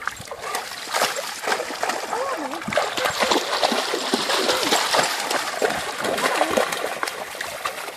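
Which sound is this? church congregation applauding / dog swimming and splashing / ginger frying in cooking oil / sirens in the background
dog swimming and splashing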